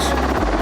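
A T-70 helicopter of the special forces flies during an evacuation flight demonstration at TEKNOFEST, giving a loud, steady low rotor and engine drone that runs unbroken through the moment.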